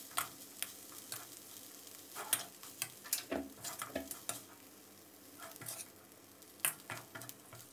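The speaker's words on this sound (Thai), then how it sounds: "แล้วก็ให้เราผัดคลุกเคล้าให้เข้ากันนะครับ" Tom yum shrimp fried rice with sliced chilies and makrut lime leaves being stir-fried in a pan: a steady background sizzle broken by frequent sharp scrapes and clacks of a spatula, close and continuous, with no voices.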